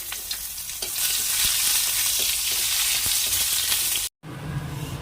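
Dried red chillies, nigella seeds and crushed garlic sizzling in hot oil for a Bengali tempering, a loud, steady crackling hiss with occasional stirring taps, briefly cut off near the end.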